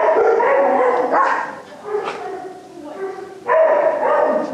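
A roughly 55 to 60 pound shelter dog barks and whines in bursts, close and loud, its yelping calls rising and falling with short pauses between them.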